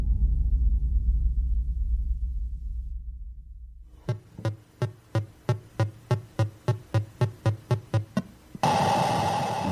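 Retro 1988 John Madden Football video game audio: a low droning rumble, then a steady run of about a dozen sharp electronic beats, ending in a burst of hissy noise.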